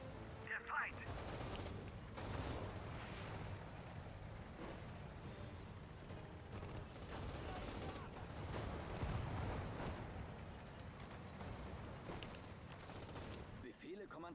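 Gunfire in the Sudden Strike 4 strategy game: dense, continuous bursts of shots and booming blasts fill the whole stretch, with faint game voices mixed underneath.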